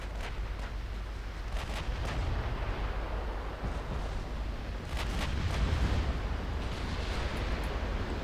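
Naval gunfire from battleship broadsides in the game Ultimate Admiral Dreadnoughts, with repeated heavy booms and sharp cracks over a dense, continuous rumble of battle noise; no voices.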